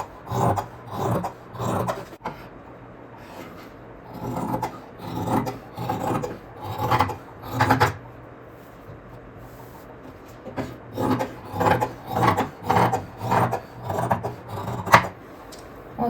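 Scissors snip through marked kurti fabric panels being cut to shape, a series of close rasping cuts in irregular bursts with short pauses between them.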